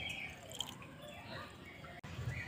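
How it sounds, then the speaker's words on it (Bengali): Ground red amaranth paste is pressed firmly through a strainer to squeeze out the juice, making soft wet squelches and drips at close range with no talking. "দিয়ে এইভাবে চেপে চেপে একটু রসটা বের করে নেব"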